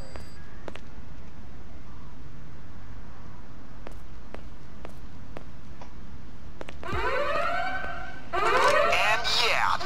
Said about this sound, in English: And yeah, there goes the alarm.